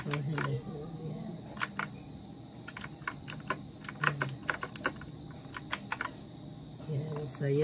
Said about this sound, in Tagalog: This is a budget mechanical keyboard.